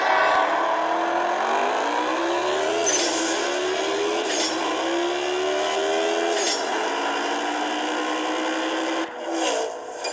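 Car engine racing in CSR Racing 2, a steady loud drone with rising pitch sweeps as the car accelerates through gear changes, continuous for most of the run before dipping near the end.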